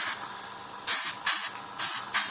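Wet spray hissing onto Deadzone terrain tiles for weathering: one long continuous burst, then three shorter sharp puffs in quick succession, close and fairly loud with nothing else heard.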